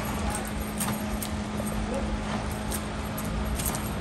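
Keys tied to the throat latch of a gaited Tennessee Walking Horse jangle in a steady rhythm with its walk, faint metallic clinks mixed with hoof clip-clop outdoors, partly under a voice talking.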